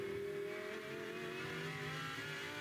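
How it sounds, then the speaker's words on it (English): Several Porsche race cars pass one another on a circuit's front straight, producing a steady, loud engine roar with sustained tonal whine throughout and no voices. "that is a trio of Porsches passing each other on the front straight"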